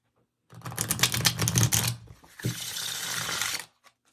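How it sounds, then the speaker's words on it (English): Cards are riffle-shuffled up close in two quick crisp bursts of fluttering, rapid clicking, with a short pause between them. "I could shuffle these all day."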